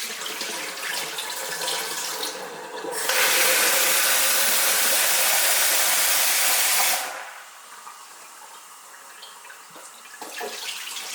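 Tap water runs into a sink to wash almonds for almond milk, a steady hiss that swells loud for several seconds, then drops back to a quieter trickle with light splashing.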